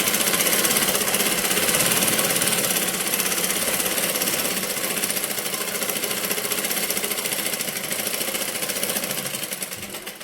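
A sewing machine runs steadily while stitching a blouse, giving a continuous, fairly loud mechanical whirr with a fast, even rhythm across the whole clip, with no voices.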